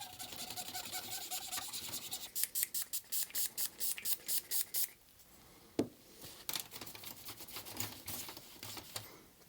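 Scrubbing and brushing inside the grimy disc tray of a Sony PlayStation 2, with a quick run of rhythmic rasping strokes, a sharp click, then scattered scraping and rubbing up close.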